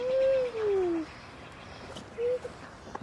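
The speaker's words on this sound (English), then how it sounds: "Got the sound of the birds." Birds call in a residential neighborhood in Vancouver, a couple of soft descending cooing notes close by, then a shorter repeat after a pause, over faint outdoor background.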